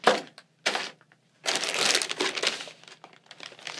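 A plastic parts bag from a Team Associated SC6.4 short course truck kit crinkles in short bursts, then a longer stretch of handling, close and fairly quiet.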